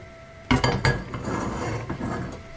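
A small pan set down on a stove for frying in ghee gives a sharp metallic clatter, followed by a few lighter clinks and scrapes of cookware, close and fairly quiet, with no talking.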